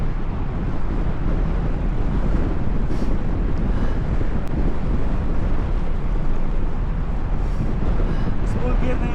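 Strong wind buffets the microphone while cycling, a constant, heavy low roar that runs unbroken throughout, with faint voices barely audible beneath it.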